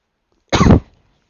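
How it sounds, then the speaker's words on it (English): One short, hoarse cough right at the microphone, loud and close, ending in silence. "sorry about the cough"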